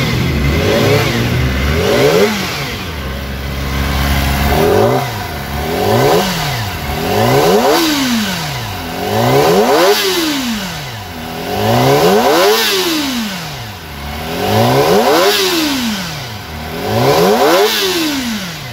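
A 2023 Kawasaki ZX-25R four-cylinder motorcycle engine revs loud and close in repeated rising and falling sweeps, about eight high-pitched revs climbing and dropping back toward idle, with no voices over it.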